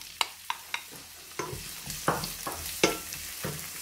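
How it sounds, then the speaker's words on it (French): Coarsely chopped onion sautéing in three tablespoons of extra virgin olive oil, with a steady soft sizzle under a series of sharp utensil taps and scrapes against the pan, close and fairly quiet. "on va commencer par faire revenir l'oignon"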